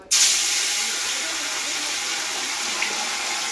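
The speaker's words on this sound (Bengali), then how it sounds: "তেল গরম হয়ে গেছে, আগে আমি মাছটা ভাজবো" Fish hits hot oil with a sudden loud hiss that settles into a steady, close sizzle lasting several seconds.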